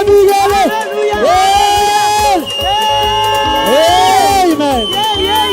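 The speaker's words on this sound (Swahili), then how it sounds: "wapi shangwe na vigelegele" A crowd cheers, whoops and ululates at a live church service at Theophilus Church, Njatha-ini, loud and sustained with high trilling ululations rising above the babble throughout.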